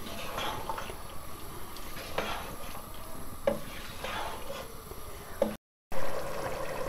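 Chickpeas roasting in ghee in a pan for a Lahori chikar cholay recipe, with a steady close sizzle and occasional scraping stirs, then a brief cut and the frying continuing loud.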